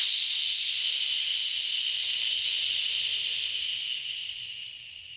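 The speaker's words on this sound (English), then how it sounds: "Take a focused breath, and on your exhale, make an SH sound" A long, forceful "shh" exhale, a bright steady hiss that slowly fades as the breath runs out.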